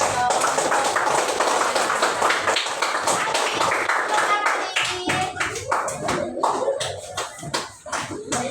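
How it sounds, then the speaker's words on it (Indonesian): Classroom of fourth-grade pupils clapping hands together, a dense burst of sharp claps that thins into scattered, uneven claps toward the end, with voices mixed underneath. "Tepuk tangan kepada"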